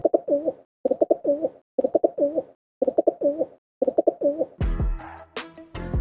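Pigeon cooing in five evenly spaced, repeated phrases, close and clear, followed by a brief burst of louder, busier sound at the end.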